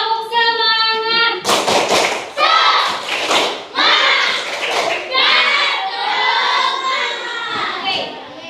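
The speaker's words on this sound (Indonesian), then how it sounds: "Tepuk semangat." Schoolchildren do a rhythmic classroom spirit clap, sharp patterned claps mixed with loud group chanting.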